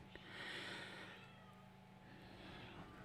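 A small rescued kitten meows faintly on a farm, with two drawn-out mewing cries, the first longer and stronger, heard at low volume.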